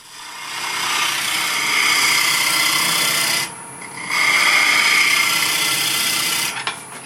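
A wood lathe turns a bowl as a tool cuts a tenon, giving a steady rasping scrape that stops briefly, resumes and then cuts off near the end, loud and close with no voices.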